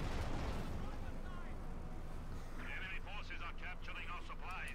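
Artillery barrage in the Company of Heroes 2 strategy game, a continuous heavy rumble of distant blasts beneath a commentator's steady talk.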